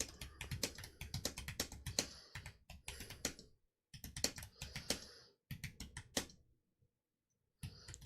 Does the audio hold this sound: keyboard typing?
yes